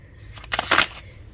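Tarot cards are shuffled in one quick, close riffle, a short papery burst of flicking lasting about half a second over a quiet room.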